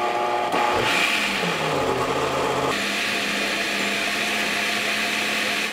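Kitchen blender whirring green corn kernels with milk, a loud close motor roar that starts with a grinding surge and then settles into a steady high whine that runs until it cuts off.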